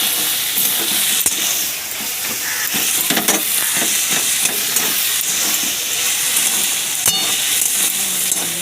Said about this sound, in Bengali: প্রায় কষানো হয়ে গেছে